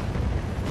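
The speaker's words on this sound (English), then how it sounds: "Friendly Trinity rocket inbound." A Trinity rocket strike explodes in a first-person shooter game, a dense, steady low boom and rumble filling the whole short moment without a clear attack.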